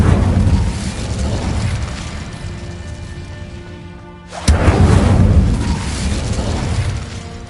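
An Incendio fire spell cast in the game Hogwarts Legacy erupts as a loud, roaring burst with a dense rumbling tail; a second, sharper blast hits midway and rolls on, both heavy and close.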